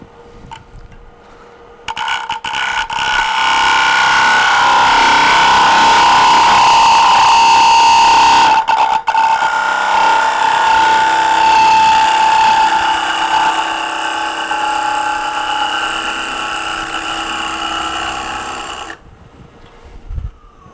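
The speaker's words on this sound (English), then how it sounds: "Still using the half-inch swept-back gouge." A wood lathe turns a bowl while a half-inch swept-back gouge cuts, giving a steady, loud whirring hum with a scraping tool tone for most of the clip, starting and stopping cleanly.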